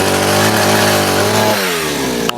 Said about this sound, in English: so the pole saw works pretty good.